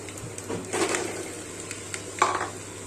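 A utensil scrapes and clinks against a pot while previously boiled food is stirred together, a few short metallic knocks and scrapes spaced irregularly over quiet background.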